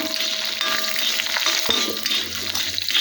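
Dried red chillies frying in hot oil, a close, even sizzle with a few utensil clinks and a sharp knock midway, steady throughout with no talking.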